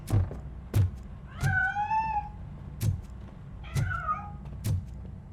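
A cat meows twice in RoboCop: Rogue City, each long rising-and-falling meow set between sharp knocks and thuds. It is fairly close and clear over low background rumble.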